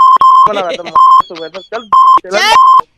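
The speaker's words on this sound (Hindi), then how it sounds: "फोन कट गया" Repeated sharp electronic beeps from a phone call cutting off sound in a regular pattern, alternating with loud, close speech between them.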